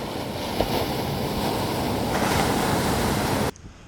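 Ocean surf at a beach, a continuous loud wash of breaking waves with wind rumble, cutting off abruptly near the end.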